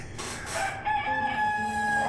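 A chicken crows in a steady, drawn-out call over a noisy, busy background, fairly clear but not very close.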